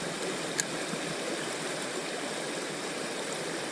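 Fast-flowing water in a trout creek, a steady, full rushing stream that fills the whole clip evenly, close by with no voices.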